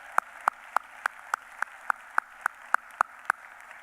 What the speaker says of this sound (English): Let's give our graduate students another round of applause.